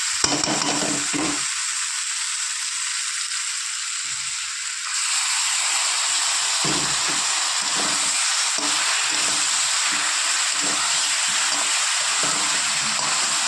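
Ginger, onion and green chilli paste cooks down in hot oil, a continuous close hiss that swells louder midway as stirring goes on, with no voices.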